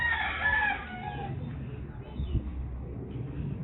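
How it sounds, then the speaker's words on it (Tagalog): A rooster crows near the start, a drawn-out call, then fades into a low ambient rumble with faint outdoor noise. "Ayan, puro manok."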